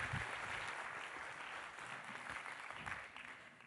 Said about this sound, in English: Can we give Ruth a round of applause